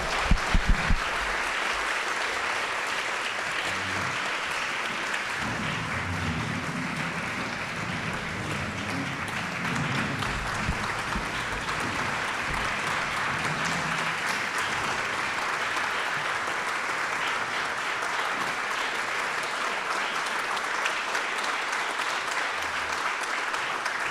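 Sustained applause from an audience at a fellows celebration dinner, dense and even for over twenty seconds, with a few louder claps at the start and faint voices mixed in.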